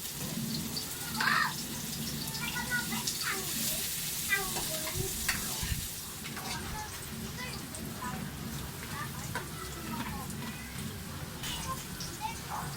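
Chopped sayote (chayote) sautés in a pan while a ladle stirs it, giving a steady sizzle with scraping and clinking. Voices talk intermittently over the cooking.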